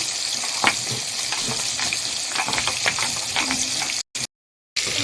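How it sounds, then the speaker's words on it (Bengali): Small fish sizzle in hot oil in a home kitchen, a dense continuous crackling hiss with scattered pops and stirring clinks, briefly cut off near the end. "তেলটা গরম হয়ে গেছে মাছগুলো ছেড়ে দেবো"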